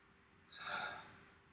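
A single slow, deep breath is drawn in close to the microphone, soft and airy, swelling and then fading over about a second in a quiet room.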